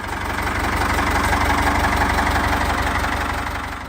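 A Ford 5000 tractor's diesel engine idles steadily, a close, even low-pitched chugging rumble with a constant rhythm that swells slightly and then eases off.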